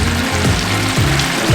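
Turkey wings deep frying in hot oil with the lid off, a steady close sizzling bubble with low rumbling pops rising every half second or so.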